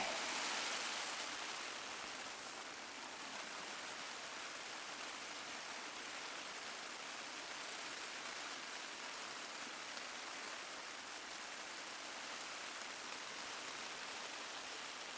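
Heavy storm rain drumming steadily on a tiny tent during winter snow and thunderstorm camping, a dense close roar of rain on fabric, loudest at the start and then constant, with no voices.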